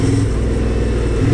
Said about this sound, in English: We're in second now, engine brake, and we're in sport mode.